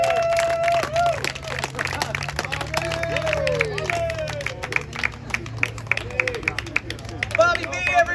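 An audience at a stand-up comedy show gives a comedian sustained applause with some cheering and crowd hubbub, while a host speaks over it.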